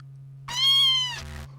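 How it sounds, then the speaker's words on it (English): A cat gives a single clear, drawn-out meow that rises and then fades over about a second, close and alone against a faint steady hum. "That's a cat going meow."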